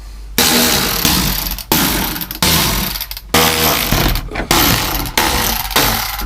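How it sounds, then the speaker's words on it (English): Under the dash of a 1966 Ford Mustang, Phillips head screws are backed out with a power driver in several loud, close whirring bursts of about a second each, separated by brief pauses, with no speech. "There is some Phillips head screws that run along here, as well as on the other side, so we're going to go ahead and take those out now."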